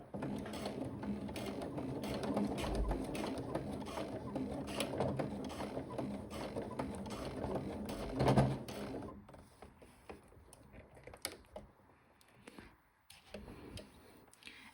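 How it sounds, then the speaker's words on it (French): Sewing machine stitching straight along a pinned Delta skirt seam, a continuous close mechanical whir and rattle that thins out and turns to sparse clicks and handling noises toward the end. "je continue à coudre tout droit en tirant mon tissu d'épingle en épingle"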